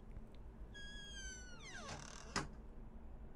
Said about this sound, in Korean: 우리 현관문을 연거 같은데?